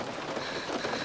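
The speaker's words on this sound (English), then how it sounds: "The raindrops sputtering on the roof of the car." Raindrops sputter on the roof of a car in a tense film scene, a steady, dense patter of close rain without talk.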